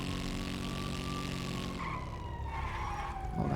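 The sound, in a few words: police sirens in a video game roleplay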